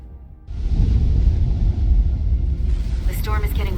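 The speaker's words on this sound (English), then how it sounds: "The storm is getting worse." A storm aboard a starship in Star Trek: Resurgence swells suddenly into a deep, rumbling roar that holds steady, with a brief voice near the end.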